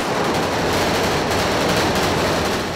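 Dense, continuous gunfire from a film's church massacre scene, a loud sustained roar of overlapping shots with no pauses, filling the whole stretch without speech.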